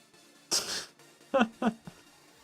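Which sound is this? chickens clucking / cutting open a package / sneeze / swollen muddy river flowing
sneeze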